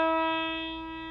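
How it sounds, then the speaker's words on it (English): A single open guitar string on a guitar with a faulty nut is plucked once; the note starts at full strength and fades steadily, sounding close and alone. "The string doesn't ring clearly, it's muted."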